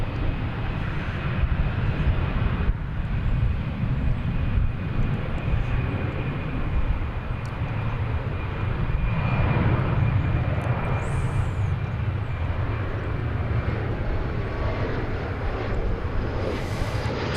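A jet airliner at DFW Airport, a new aircraft, gives off a steady, loud, broadband engine roar that holds throughout with no talking.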